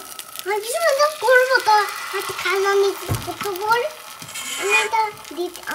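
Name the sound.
food frying and sizzling in oiled pan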